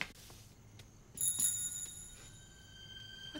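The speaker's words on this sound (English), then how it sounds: "Sounds like a bell." A faint, thin bell ringing rises out of a quiet room after a soft knock, sustaining high clear tones that slowly fade and linger in the background.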